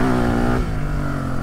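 Suzuki DR 350 enduro motorcycle engine revving up and dropping back, a loud buzzy single-cylinder note held briefly then settling lower, with no talk.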